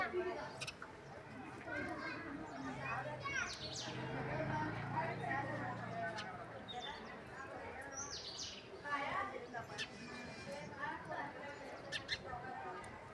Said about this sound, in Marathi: त्या इथं बघा दोन चिमणी आहेत